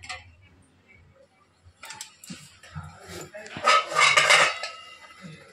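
Pressed rice noodles go into an idli steamer pot, with metal clinks and clattering of the pot and plates close by. A voice talks over the handling, and the clatter grows busier toward the end.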